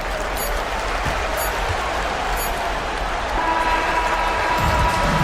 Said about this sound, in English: Made extra special, Mike, by all the noise from this home crowd.